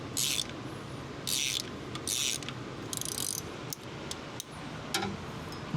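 A socket ratchet clicks in short bursts while loosening a spark plug on a truck that has sat for six years, with several separate ratcheting runs and pauses between them.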